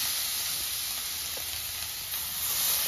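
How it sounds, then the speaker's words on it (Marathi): Grated carrot shallow frying in hot ghee for carrot halwa, giving a steady, soft, broadband sizzle that holds evenly throughout at a close distance, with no voices. "त्याला फक्त एक शॅलो फ्राय म्हणतात तशा प्रकारे थोडस फ्राय करून घ्या।"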